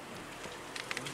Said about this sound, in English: it's quite rainy and it's frozen